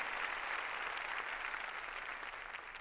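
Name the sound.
congregation applauding in church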